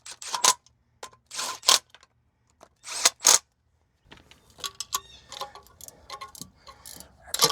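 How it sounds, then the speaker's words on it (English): A ratchet wrench clicks in quick bursts while tightening bolts on a van transmission, starting with several short, separated runs of ratcheting and then giving way to denser, irregular clicking and metallic handling, close by. "Ratchet wrench."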